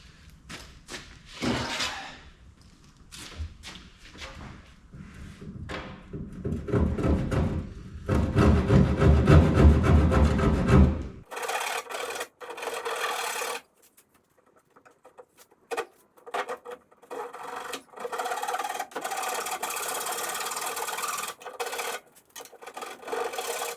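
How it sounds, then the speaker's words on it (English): A piece of plywood being trimmed to fit inside a boat wheelhouse, with steady rasping and scraping, loudest in a sustained stretch midway, then lighter intermittent scratching strokes, close and without talk. "I've just got to trim this back a little bit more and then I think it's going to fit in snugly."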